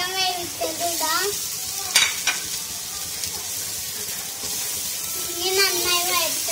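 Cooked chicken stirred in a frying pan with curry leaves, coriander and turmeric, sizzling steadily with scraping strokes of a spoon, close and fairly loud throughout.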